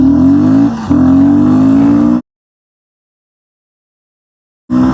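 A Royal Enfield Guerrilla motorcycle pulls away hard from a standstill, its engine note climbing loudly and close, dipping briefly at a gear change, then cutting to silence before the roar returns at the end.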